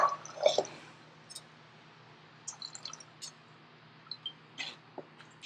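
Steeped mint tea is strained, with soft scattered drips, squishy wet sounds and small splashes that come in brief faint bursts over a quiet background.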